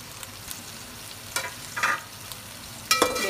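Onions and chicken frying in a pan over medium flame, a steady low sizzle broken by a few louder bursts of stirring and scraping, with no talking.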